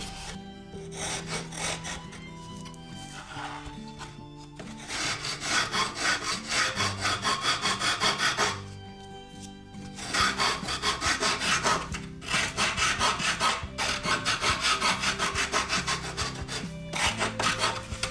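Steady back-and-forth scraping of 120-grit sandpaper over the wooden hull of a model ship in long, rhythmic strokes with brief pauses between bursts, close and fairly loud.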